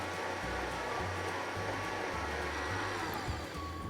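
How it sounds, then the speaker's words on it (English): A blender whirs steadily through a batch of pepper, leafy greens and chicken broth for a green chicken and vegetable soup, a constant dense motor roar with slight pitch shifts, close and loud, no talking. "Then I'll just pop the lid on and let this blend up till everything is incorporated"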